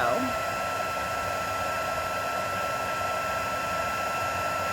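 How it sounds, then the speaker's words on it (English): A heat embossing tool blows hot air with a constant, loud whooshing hum, steady and unbroken for the whole stretch. "The heat tool is kind of heated up, still warms from the last one"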